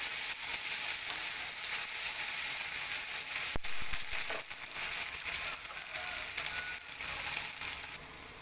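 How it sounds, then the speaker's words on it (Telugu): Ginger garlic paste fries in a pan for a fish curry, giving a steady, close sizzle with one brief sharp clatter near the middle and no talking. "ఇది కూడా పచ్చివాసన పోయేదాకా ఫ్రై చేసుకున్నామండి"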